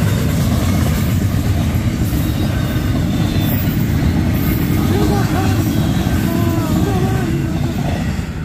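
A heavy Union Pacific intermodal freight train, locomotive 5503, rumbles eastbound past a railroad crossing in Arizona, loud and steady, with metallic wheel squeals and rhythmic clacking over the rails.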